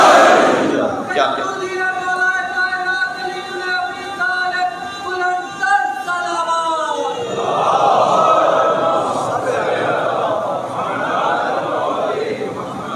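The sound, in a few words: crowd chanting the Naara-e-Haidari slogan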